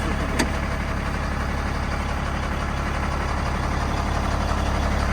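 A KamAZ truck's diesel engine idles quietly and smoothly, a steady low rumble running unchanged throughout with one faint tick near the start and no voices.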